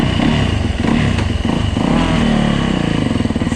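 A Yamaha YZ450F dirt bike rides on snow, its engine roaring loud and close in a continuous, slightly wavering drone with revving swells.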